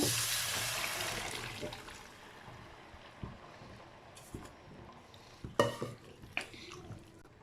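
Boiled vegetables and their cooking water are tipped into a pan and stirred for Thirunelveli sodhi, a soft pouring splash fading into quiet scraping and a few sharper clinks of a spoon against the pan.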